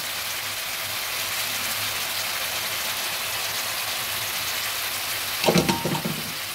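Turmeric and salt frying in a pan, a steady soft sizzle throughout with a brief burst of clatter and stirring near the end.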